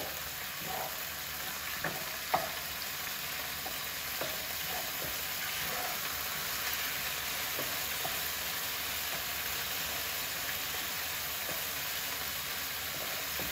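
Bean paste frying in oil for Sichuan boiled beef, a steady close sizzle that holds without a break, with a few faint stirring clicks and scrapes.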